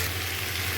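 Water hits a hot pan of shukto vegetables cooked with milk, a loud, close, continuous hiss and sizzle lasting under a second.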